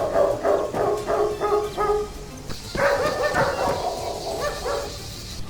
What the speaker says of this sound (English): And dogs bark around the cities.